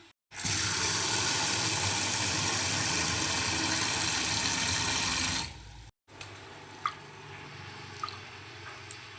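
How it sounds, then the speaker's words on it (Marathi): Urad dal being rinsed in water for dahi bhalla batter, a steady loud wash of splashing and swishing liquid for several seconds, then a brief pause followed by quieter scattered drips and small splashes. "छान उडद डाळीला 3 ते 4 पाण्याने आपण धुवून घेणार आहोत।"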